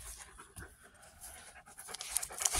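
A dog named Caesar panting close by: quick, quiet, irregular huffs of breath in a soft, uneven rhythm, heard alone with no voices.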